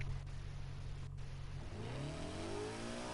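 A tuned Aston Martin supercar with a swapped engine revs in a racing video game, a steady low engine drone giving way to a rising rev as the pitch climbs through the final seconds.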